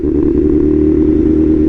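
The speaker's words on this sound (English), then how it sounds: "the sound of this bike when you first started up" A BMW M1000RR motorcycle engine runs loud and close, a steady throbbing rumble held at high revs without pause.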